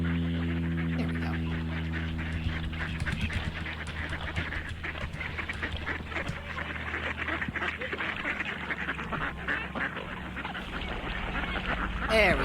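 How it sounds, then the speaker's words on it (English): A flock of very noisy ducks quacks constantly, loud and close, with overlapping calls that continue throughout, over a steady low background hum. "the world's noisiest ducks"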